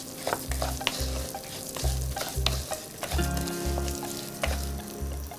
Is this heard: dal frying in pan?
yes